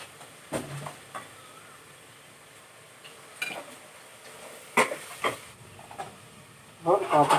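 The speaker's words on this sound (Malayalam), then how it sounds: "നല്ല അടിപൊളിയായിട്ട് ഫ്രൈ ആയി വന്നിട്ടുണ്ട്" Egg samosas frying in hot oil, giving a faint, steady hiss beneath scattered clinks and clatters of a utensil against the pan, with a louder burst of sizzling and scraping at the end.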